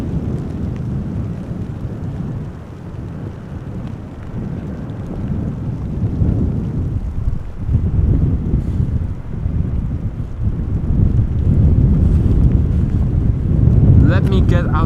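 Wind buffets a camera microphone outdoors at Amsterdam Schiphol Airport, a continuous loud low rumbling roar that swells and eases, with no clear talk over it.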